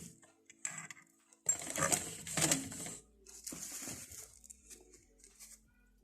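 Sewing machine stitching trouser fabric, a short run of close mechanical chatter with a few brief bursts before and after, indoors and fairly quiet.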